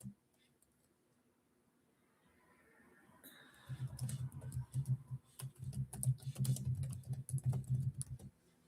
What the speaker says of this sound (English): I just typed in the name of this short.